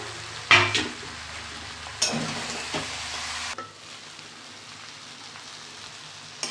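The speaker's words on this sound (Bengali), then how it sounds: "আলু ভাজাগুলো দিয়ে দিলাম, আর একটু কষিয়ে নেব।" Fried potatoes sizzle steadily in a hot pan, with a few sharp scraping stirs near the start before the frying settles into a quieter, even hiss.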